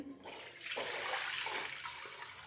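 About a litre of water pours steadily into a pan for a couple of seconds, a continuous rushing splash close by with no talking.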